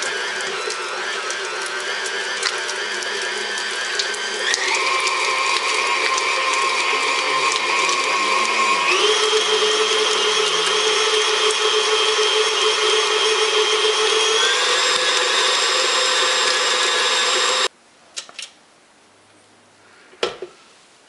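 An electric mixer fitted with a whip creaming softened butter in a bowl, a loud, steady motor whine that steps up in pitch as speed changes, then stops, followed by a few faint clinks.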